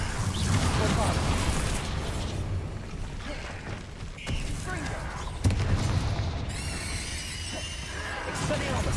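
A Bombarda spell detonating in Hogwarts Legacy, a heavy boom and crash amid other spell blasts and clattering, with a voice talking over much of the busy battle.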